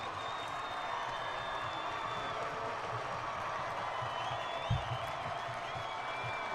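A Bedford football crowd in the stands at a game, a steady wash of distant cheering and murmuring with scattered claps and one brief thump, continuous and fairly even throughout.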